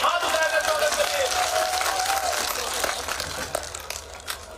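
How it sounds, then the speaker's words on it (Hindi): A crowd at an outdoor election rally in Raigaon, Satna district, claps loudly to welcome the chief minister, a thick, dense clapping that swells at the start and slowly thins, with an amplified voice speaking over it. "सम्मानित मुख्यमंत्री जी का जोरदार तालियों से हाथ उठाकर स्वागत करिए।"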